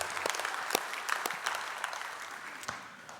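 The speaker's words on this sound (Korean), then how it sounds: "박수 한번 하겠습니다." Church congregation at a general assembly opening worship service applauds, scattered individual claps standing out over a steady, moderately quiet wash of clapping lasting a few seconds.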